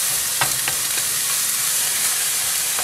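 Cauliflower fried rice stirred and tossed in a hot pan, a steady frying sizzle running throughout with a few brief scraping clicks of the utensil, fairly close and with no talking.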